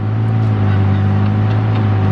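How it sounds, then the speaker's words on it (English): Tigercat 635D skidder with a 6.7 liter Cummins engine working hard, a loud, steady diesel drone with strong low harmonics, close and continuous, no talking. "So they're pushing that engine hard in that thing."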